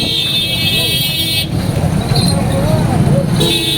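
A vehicle horn blares in long sustained tones amid the crowd and traffic noise of a village jatre fair, with a siren-like wail and voices mixed into the busy background.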